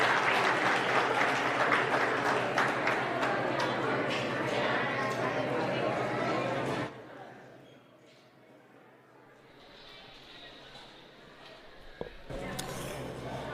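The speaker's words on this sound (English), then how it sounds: "Let's give him a round of applause as he exits." Audience applause at an annual CPS achievement day event, a strong, steady round of clapping for about seven seconds that stops abruptly, followed by quiet room noise and a faint voice.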